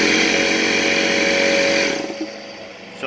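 An air compressor starts up while running off a Predator 8750 inverter generator, a loud close motor whine that holds steady, then cuts away after about two seconds and leaves a quieter hum.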